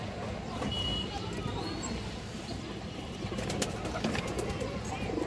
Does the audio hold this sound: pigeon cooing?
yes